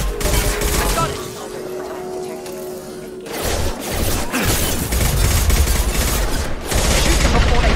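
Rapid gunfire bursts from a Mass Effect 2 firefight, loud and dense, with a brief ringing hum before heavy volleys pick up and continue almost without pause.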